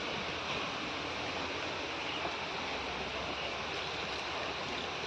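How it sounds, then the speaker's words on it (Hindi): Water poured from a container onto a potted tulsi plant, a steady continuous rushing splash that holds at an even level for the whole stretch without any talking. "अब डाल देती हूँ पानी"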